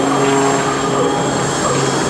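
Propeller aerobatic airplane flying a snap roll during a vertical upline at the 2005 NAS Oceana airshow, a loud, steady droning engine roar held throughout, with no pauses or voices.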